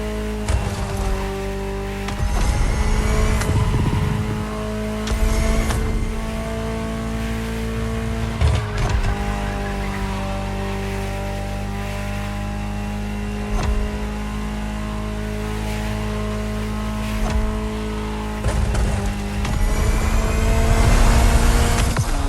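A Ferrari supercar engine in The Crew Motorfest sustains a steady, loud drone with harmonic tones and repeated surges and gear-change dips across the run, with no talk.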